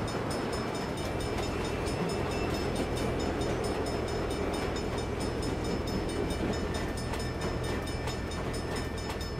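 In the Saints Row video game, a train rolls past with a loud, continuous rumble and rail clatter that holds steady for the whole stretch.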